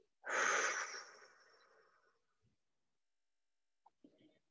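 A long, forceful exhalation during an advanced yoga breathing exercise, starting loud and breathy and then tapering off over about two seconds. A few faint small sounds follow after a short silence.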